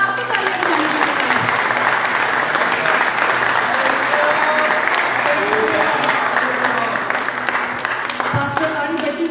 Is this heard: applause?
yes